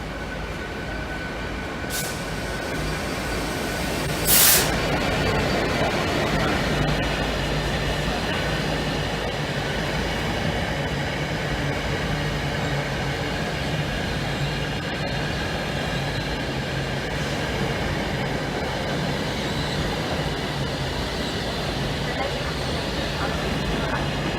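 A 7X Express train passes through a station with a short platform, a steady rumble of rail noise heard throughout, with a brief sharp burst near the start and no voices.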